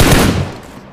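M762 assault rifle fire in PUBG Mobile, a loud, dense burst up close that fades out over about a second, with no voices.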